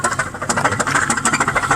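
A 2001 Pontiac Grand Prix GTP with a blown engine running roughly, a loud, close, uneven pulsing chug with ragged rhythmic beats and a rattling, choppy character throughout.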